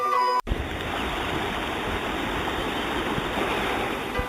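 The Nubra River in the Nubra Valley of the western Himalayas rushes steadily with a dense, continuous roar, close and loud throughout after a brief opening cut.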